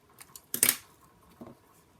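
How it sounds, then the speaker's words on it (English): Scissors snipping jute twine, a few light clicks and then one loud crisp cut, followed by a softer snip a moment later, close and quiet otherwise. "I'm going to cut it down to, what is that, about 4 inches?"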